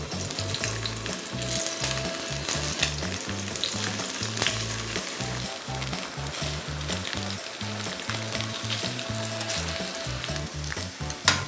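Bamboo shoots sear in a very hot frying pan, browning for a canola-flower and bottarga pasta: a loud, steady, close sizzle runs unbroken throughout with no voices.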